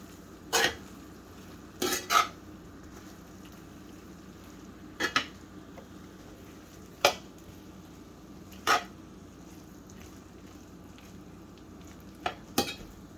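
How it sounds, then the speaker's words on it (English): Apple pie filling fries in a pan as it caramelizes, with a soft, steady sizzle. Occasional sharp clinks of a utensil stirring against the pan break through every second or two. "I'm just going to fry it until it gets that caramelized texture"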